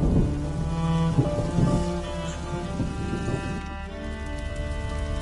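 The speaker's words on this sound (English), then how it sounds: "would you mind if we get out of the rain, please?" Rain and thunder in the video game A Plague Tale: Innocence, a continuous loud downpour with low rumbling beneath, mixed with sustained musical tones and no voices.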